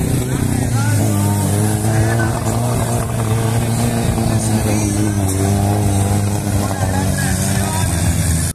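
A 4x4 off-road vehicle struggles along on three of its cylinders during an off-road race, a loud rough steady engine drone throughout, with a voice speaking over it.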